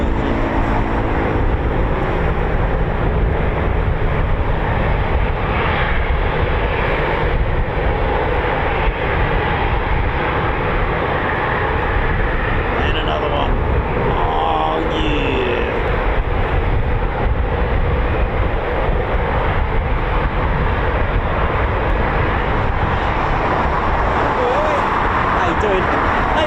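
A Eurofighter Typhoon FGR4 jet at RAF Coningsby sends out a loud, continuous broadband roar that stays heavy and unbroken for nearly half a minute.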